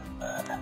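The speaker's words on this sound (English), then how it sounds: "What sound does a frog make?" A single green frog croaks once, a short low throaty call heard close and alone over a faint background hum.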